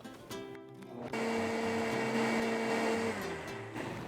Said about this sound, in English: Now I'm gonna blend it really good.